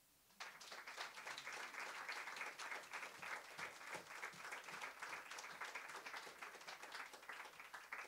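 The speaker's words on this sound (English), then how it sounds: "Can we get another round of applause for April Gibson, Chicago's finest?" An audience at a literary festival applauds after a poetry reading, with many hands clapping in a steady, sustained burst that starts suddenly and carries on for several seconds.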